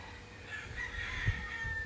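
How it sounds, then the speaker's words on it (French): Neighbours' roosters and hens in a backyard. A faint, distant rooster crow rises briefly over a low background hum. "j'ai des voisins très bruyants, les coqs et les poules"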